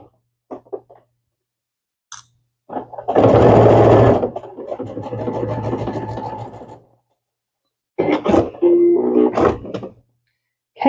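A sewing machine runs in a sustained close burst while stitching rows of a quilted Christmas pot holder, followed by a softer, steadier run, with brief handling clicks and rustles before and after.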